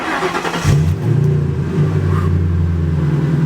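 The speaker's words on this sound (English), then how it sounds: "Fires right up, man." A Chevrolet C10 square-body pickup engine cranks, catches and fires up, then settles into a steady, loud idle with a slight rise in revs, heard up close with no talking.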